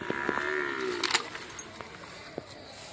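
Buffalo calves at a Sunday buffalo market in Erragadda low and moo, one drawn-out call, with scattered thuds and market noise around them.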